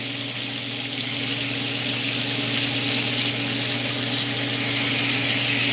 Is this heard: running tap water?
yes